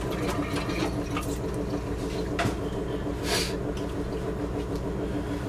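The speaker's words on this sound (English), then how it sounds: "I rinse my hands off again." Running water from a kitchen tap rinsing hands while making kimbap, a steady close splashing stream throughout with no talk.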